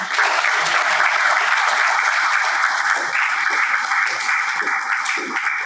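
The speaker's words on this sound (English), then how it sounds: "Please join me in welcoming Professor Agarwal with his round of applause." Steady, dense applause from an audience welcoming Professor Agarwal at a mathematics event, loud and continuous throughout with no voices over it.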